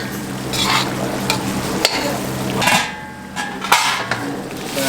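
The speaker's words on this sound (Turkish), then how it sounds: "Arada bir karıştırıyoruz." A Darende-style pot kebab (tencere kebabı) is stirred in a cooking pot. Spoon scrapes and stirring strokes come in irregular bursts over a low, steady simmer, close and fairly loud, with no talk.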